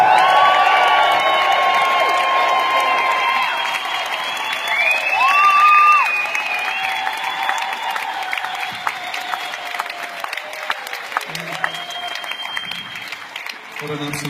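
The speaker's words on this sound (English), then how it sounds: "So can we please cheer, raise the roof for Mr. Mike Edgar." A large awards-ceremony audience cheers and applauds loudly for the Outstanding Contribution to Music honoree, a sustained wash of clapping and whoops under a voice speaking over it, with the crowd noise easing slightly partway through.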